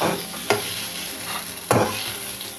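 Eggplant pieces shallow-fried in a little oil crackle in a pan, with a steady sizzle broken by two sharp scraping clatters of a utensil lifting them out.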